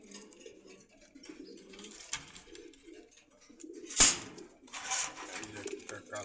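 Pigeons coo at the Meradia pigeon market in Khilgaon, Dhaka: soft, low, repeated cooing close by, with a sharp clatter midway and busy background noise.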